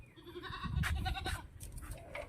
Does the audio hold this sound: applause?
no